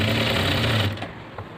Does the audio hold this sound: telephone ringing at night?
no